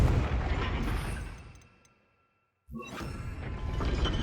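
In the Hogwarts Legacy video game, a Confringo spell erupts into a loud fiery explosion that fades to near silence, then a fresh blast cuts in sharply and keeps rumbling.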